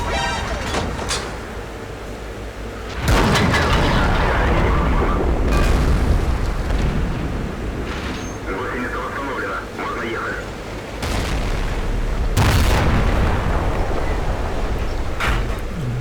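Gunshots in a first-person shooter video game, several heavy booming blasts with rumbling tails over a constant background of battle noise.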